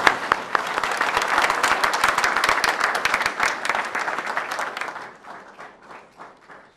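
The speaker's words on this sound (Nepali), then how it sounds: "हामी ताली बजाएर स्वागत गरौँ" An audience at a church gathering applauds to welcome a pastor, a dense burst of steady clapping that gradually thins and fades toward the end.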